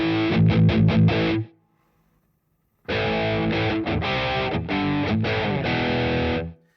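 An electric guitar played through stacked overdrive and distortion pedals, heavily driven chords strummed in a rhythmic burst, a brief silence, then a longer loud chugging passage.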